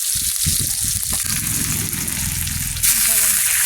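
Onion with green chillies frying in oil in a home kitchen pan, a loud dense sizzle that holds throughout and brightens near the end, with muffled low thumps and voice-like murmur underneath early on.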